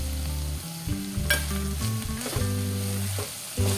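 Curry leaves sizzle and crackle in a frying pan while being stirred, an even hiss under steady background music.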